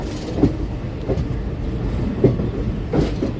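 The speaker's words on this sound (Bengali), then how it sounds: "হলদিয়া আসানসোল এক্সপ্রেস তার নির্দিষ্ট সময় থেকে 40 মিনিট লেটে 113 কিলোমিটার পথ অতিক্রমণ করে খড়গপুর জংশনে এসে পৌঁছালো।" The Haldia-Asansol superfast express (22329), running 40 minutes late, pulls into Kharagpur junction with a steady rumble and periodic rhythmic wheel clacks over rail joints, heard close by.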